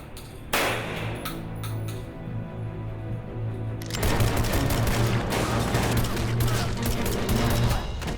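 Sustained automatic fire from a smooth-shooting gas-operated gun, starting after a brief quiet half-second and intensifying into a loud, dense burst around the midpoint that continues to the end.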